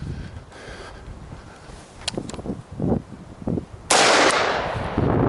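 Rifle gunfire during an outdoor shooting drill, with several sharp reports heard at mid-distance over wind noise, ending in a louder, closer blast that fades slowly.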